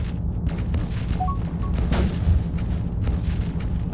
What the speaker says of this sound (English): Some missiles.